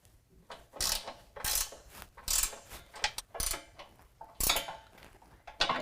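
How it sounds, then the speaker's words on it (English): A ratchet with a 9/16 socket tightens step brackets on a 2007-2018 Jeep JK, giving several quick bursts of clicking ratchet strokes separated by short pauses, close and fairly quiet. "we're going to go ahead and tighten down the brackets to the boards"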